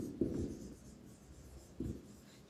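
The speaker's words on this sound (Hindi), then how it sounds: "यहाँ लिखते हैं" Marker or chalk writing on a board in a classroom lesson, heard as two short scratchy strokes about a second and a half apart, fairly close, with no talk.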